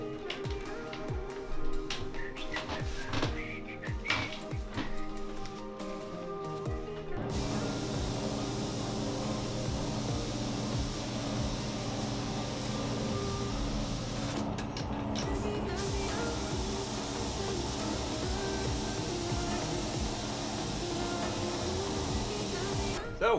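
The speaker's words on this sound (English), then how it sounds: "Now I'm going to spray some primers, the base coat." Spray gun laying primer base coat onto a racing helmet, a steady close hiss running continuously for many seconds after some earlier tapping and handling noises, with a brief pause midway.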